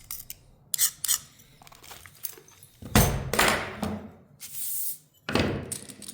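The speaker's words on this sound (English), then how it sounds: "then I'll use my grazing pliers here just to tidy the edge up, just to give it a little bit of a nibble" Grozing pliers nibbling the edge of a piece of stained glass, giving sharp irregular snaps and crunches in separate bursts, close and fairly loud with quiet gaps between.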